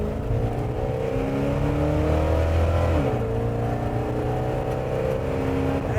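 A 1965 GMC step-side pickup truck engine runs and revs, a steady loud close rumble that climbs in pitch, dips sharply and rises again.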